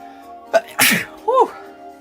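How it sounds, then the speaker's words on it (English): A single loud sneeze bursts out close by, with a short sharp inhale before it and a brief vocal sound afterward, over a quiet background. "I gotta sneeze, man."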